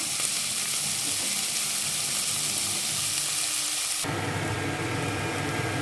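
Chopped onions frying in a pan for a palak paneer curry, a steady close sizzle throughout that turns brighter and louder toward the end, with no voices.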